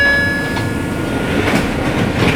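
A passing train rumbles steadily nearby, a broad continuous roar with faint rail clatter and no talking.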